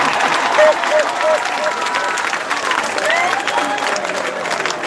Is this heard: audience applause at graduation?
yes